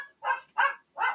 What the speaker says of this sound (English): my dogs are barking at everything this morning.